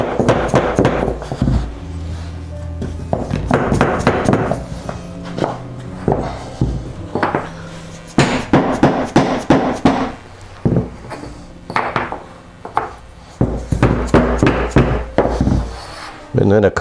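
Workbench pieces being knocked together with a wooden block, a series of loud, sharp wooden whacks in irregular bursts, close by, with someone talking in between.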